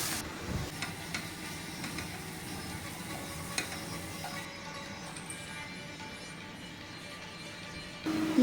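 Chopped onion and green peas frying in a pan for paneer matar curry, a steady soft sizzle with occasional stirring scrapes, low and continuous throughout with no talking.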